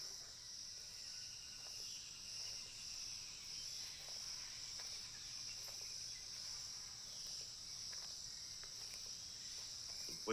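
Crickets chirp in a continuous high, shrill drone during a Pirate Borg tabletop session, a faint outdoor night ambience running steadily throughout with no talk over it.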